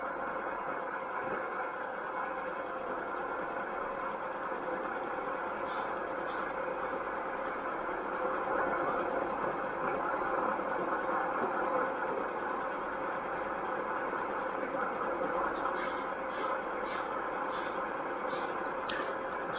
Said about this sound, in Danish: Så nu gasser toget helt vildt op.